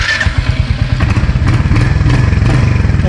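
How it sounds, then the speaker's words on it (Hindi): A modified motorcycle engine fires up and settles into a steady, loud exhaust note with rapid regular pulses, close by and with no talk over it. "एग्जॉस्ट नोट भी काफ़ी अच्छा है यार"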